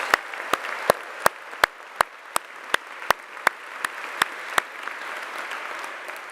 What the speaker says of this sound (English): Let's give her an applause that she can hear wherever she is.